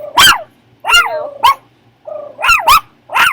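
Several dogs bark loudly and close by at a neighbor, firing off sharp single and double barks in irregular bursts with short pauses between, with no talking over them.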